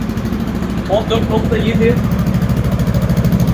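A Yamaha XMAX scooter bored out to 350cc with a 76mm TDR kit idles steadily on a dyno, a low continuous engine drone running throughout while someone talks over it.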